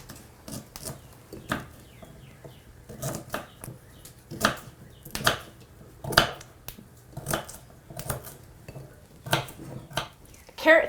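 A parsnip sliced with a knife on a board in an 1820s-style kitchen, a series of sharp, irregular chopping knocks up close.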